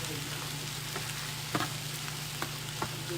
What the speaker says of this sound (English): you want to turn up the heat and you want to really fry your rice